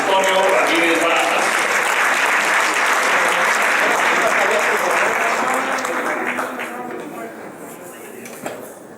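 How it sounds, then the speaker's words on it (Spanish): A strong round of applause from an audience at a lecture welcoming the president of the Mexican Chess Federation, dense continuous clapping that holds steady and then tapers off toward the end. "Un fuerte aplauso para Mario Antonio Ramírez Barajas."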